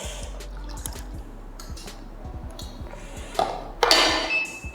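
Water poured over a real paper coffee filter to rinse it: scattered drips and light clinks of kitchenware, then a brief, steadier splashing pour near the end, close by.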